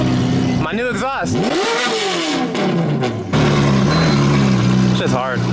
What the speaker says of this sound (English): My new exhaust.